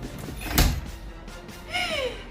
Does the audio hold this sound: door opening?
yes